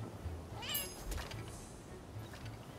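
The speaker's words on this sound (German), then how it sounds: "Noch eine Katze." A cat meows in the video game Rise of the Ronin, a short, faint call rising over a steady low background hum, heard alone without talk.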